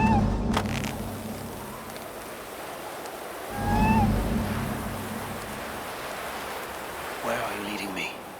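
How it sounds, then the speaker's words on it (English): A small cat meows a couple of times in Assassin's Creed Valhalla, perched up on one of Freya's statues in Asgard, short mews over steady wind and water ambience, with someone speaking near it. "Who put you up here, little cat?"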